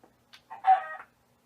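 A Minecraft chicken clucks a few times in a quick, mid-pitched burst, up close and with no talk over it.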